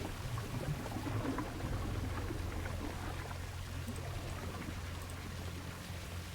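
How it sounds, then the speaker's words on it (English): Water rising in a cave in the video game Trüberbrook, a low continuous rushing and pouring wash that holds steady at moderate volume. "Why is the water only rising after I knock down the stalactite?"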